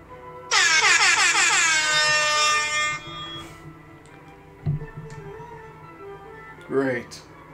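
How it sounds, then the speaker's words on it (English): An air horn sound effect blasts loud and steady for about two and a half seconds near the start, followed by quieter clicks and short bursts, with people talking around it. "That's what I call air horn bending."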